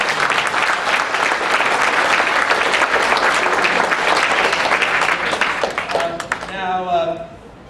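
An audience at a public event applauds the parents, loud continuous clapping that tapers off, followed by a voice speaking briefly at the close.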